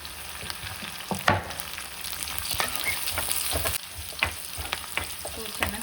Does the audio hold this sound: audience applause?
no